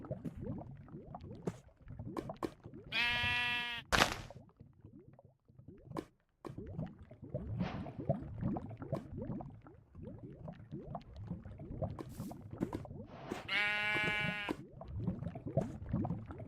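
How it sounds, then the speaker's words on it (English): A sheep bleats twice in the video game Minecraft, each call short and clear, separated by about ten seconds, over a continuous bed of soft liquid, squishy footstep-like noises. "There's a sheep nearby too."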